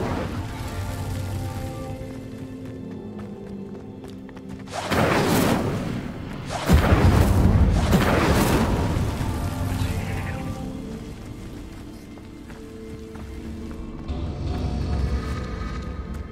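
The Incendio fire spell is cast in Hogwarts Legacy, bursting out as a pair of roaring, crackling whooshes with heavy low booms, then fading into a softer rumble before another swell near the end.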